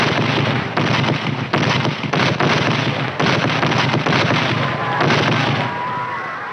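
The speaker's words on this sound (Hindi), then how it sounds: "मालूम होता है तोपों के मुंह इस तरफ भी खुल चुके हैं।" Cannon fire in a 1972 Hindi film, heard as a dense, continuous barrage of booming blasts and crackling bursts that roll on without pause for several seconds, loud and close.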